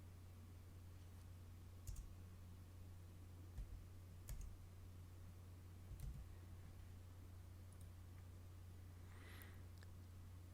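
A file name is typed on a computer keyboard, a handful of faint, scattered key clicks separated by short pauses against a quiet background hum.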